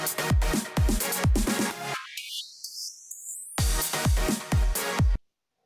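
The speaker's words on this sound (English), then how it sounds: "It'll start going more and more high pitched." A busy electronic melody with heavy drums breaks into a tone sweeping steadily upward in pitch from Ableton's Frequency Shifter, then the full beat crashes back in and stops abruptly.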